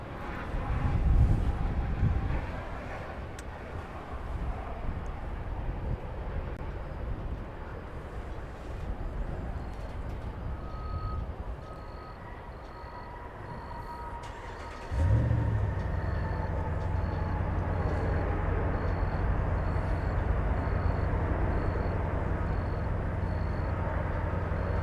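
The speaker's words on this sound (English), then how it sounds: "American 2659 coming in from Santa Ana, California. Max 8." American Airlines Boeing 737 Max 8 landing at DFW Airport: a broad jet rumble builds and holds, then a sudden louder roar surges in midway and stays steady, with a faint high whine above it.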